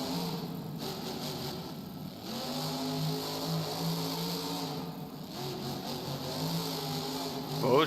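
Monster trucks at a Beam Jam championship round in Inglewood, California, roar off the starting line with revving engines that rise and fall over several seconds, loud and continuous under an announcer's voice.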